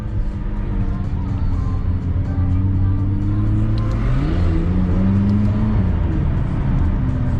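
A McLaren sports car driving through London blips its engine on a downshift, a sharp rising rev swelling over a continuous road rumble and steady engine drone.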